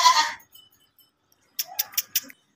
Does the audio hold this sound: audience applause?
no